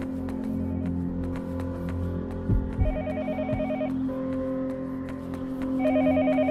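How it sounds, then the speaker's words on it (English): A telephone rings repeatedly in the horror video game Yomawari: Night Alone, a regular electronic trill over a low droning ambient background, with a brief thud partway through. "A phone is ringing again."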